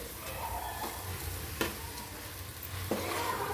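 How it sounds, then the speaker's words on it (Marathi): Rice sautés in oil for masale bhaat, a soft steady sizzle punctuated by two or three distinct scrapes of a spoon stirring the grains in the pan, with no talking. "तांदूळ पण आपल्याला तेलाव छान मस्त परतायचे बघा सर्व एकदा आपल्याला परत हलवून घ्यायचे"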